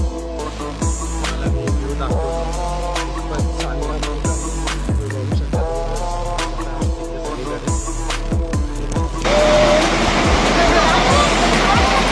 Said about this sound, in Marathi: हे पहा, धबधबा जोरात खेळताना शुद्ध आणि अप्रतिम